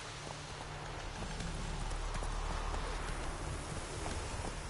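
Roach, the horse in The Witcher 3, gallops in a steady stream of hoofbeats at moderate volume over a constant low wind-like background, with no voices.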